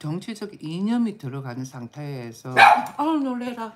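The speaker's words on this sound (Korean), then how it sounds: "우리 강아지가 짖어가지고 내가 깜짝 놀랐네" A pet dog gives one sharp, close bark in the middle of someone talking in Korean, who keeps speaking before and after it.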